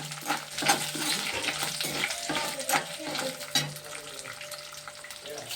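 Chana dal and urad dal fry in hot oil with a steady crackling sizzle, punctuated by scraping stirs in the pan, close and continuous with no talking.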